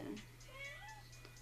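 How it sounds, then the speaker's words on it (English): A pet cat meows faintly in a quiet room at midnight, a thin rising-and-falling call over a low steady hum, with a soft voice in the background. "I'm sorry, that's my cat."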